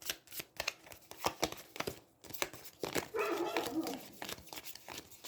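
Dogs bark repeatedly nearby during a home session of the Aeons End card game, sharp barks coming in irregular bursts with some paper crinkling mixed in.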